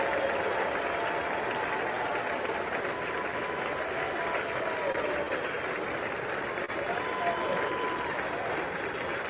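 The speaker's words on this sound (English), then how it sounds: "Slow clap." Dense applause from a large crowd at the State of the Union address as the President of the United States is introduced, a sustained wash of clapping heard at a distance as through a broadcast.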